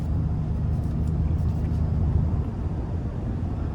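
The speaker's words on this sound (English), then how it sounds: "you get a nice growl, a nice roar, I should say, when you're putting your foot into it" A 2025 GMC Sierra 1500 Denali Ultimate's engine roars under acceleration, a deep steady rumble heard from inside the cab, continuous and fairly loud with no talking.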